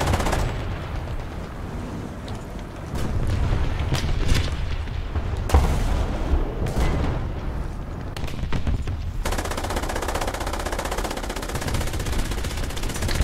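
Continuous gunfire and heavy booming explosions from a World War II tank battle in War Thunder realistic battles, with dense overlapping shots and blasts that stay loud and steady, without speech.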